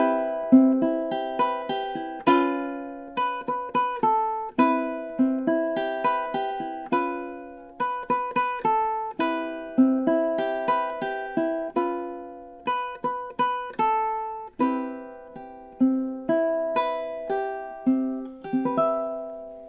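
Ukulele playing the closing bars of a song, with repeated phrases and strummed and plucked chords gradually slowing toward the end, heard alone and clear at a moderate volume.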